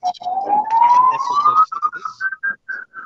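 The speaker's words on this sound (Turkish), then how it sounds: "ambulans geçiyor" An ambulance siren passes along a street, its tone sliding steadily upward and then breaking into short repeated wails as it moves off, fairly loud and otherwise unaccompanied.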